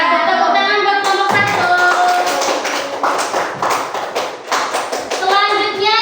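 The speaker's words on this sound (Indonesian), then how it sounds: "Tepuk tangan buat kelompok" Students in a classroom clap for a group after its presentation, steady close applause that starts with a voice, swells and then tapers, with children's voices mixed in at the end.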